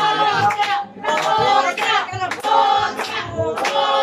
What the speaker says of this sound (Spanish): Y que el aplauso sea para ellos, bien bonito.